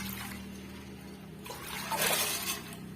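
Water is poured into a pressure cooker for cooking black-eyed peas, a soft trickling splash that swells briefly midway over a low steady hum, with no talking.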